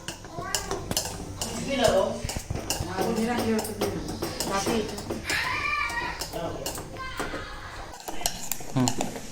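Dhokla batter being mixed smooth in a bowl, with steady scraping and clinking of a spoon against the dish and irregular stirring knocks, while someone talks throughout.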